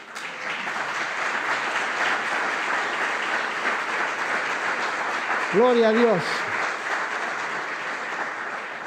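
A church congregation applauds during a sermon, a steady wash of clapping that runs throughout while one voice calls out briefly near the end.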